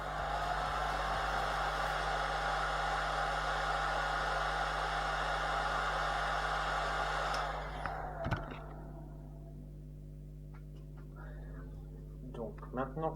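A hair dryer heats a lacquered wig being styled with a brush, blowing as a steady, loud broadband whoosh for about eight seconds, then cutting off to a quieter background with small handling noises.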